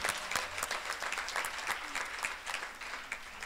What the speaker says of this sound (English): we should clap loudly now. This is the time to keep clapping.